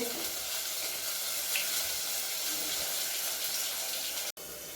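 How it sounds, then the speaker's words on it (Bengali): Hot oil spattering and sizzling steadily in a pan as bay leaf, cumin and a large tomato go in, a dense continuous hiss up close with one brief cut near the end. "একটা তেজপাতা, অল্প একটু জিরা, একটা বড় টমেটোর আমি দিয়ে দিলাম। দিয়ে দিচ্ছি, তেলটা ছিটবে।"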